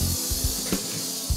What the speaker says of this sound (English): to modernise the existing fireplace, they're spray painting it black